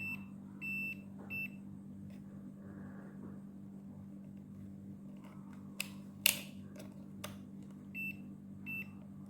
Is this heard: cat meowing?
no